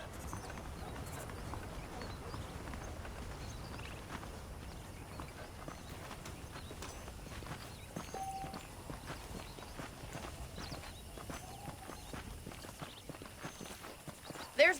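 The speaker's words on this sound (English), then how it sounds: "The horses are saddled up over here." Horse hooves clip-clop at a walk in the Red Dead Redemption western video game, a steady soft rhythm of hoofbeats running under talk and ambient game sound throughout.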